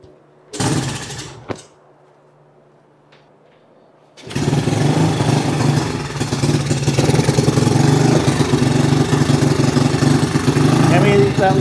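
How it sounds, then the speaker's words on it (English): An old dirt bike engine coughs briefly, dies, then restarts and runs at a steady loud, rough idle with a close, continuous rattling drone. "Let me see if I can get it to idle."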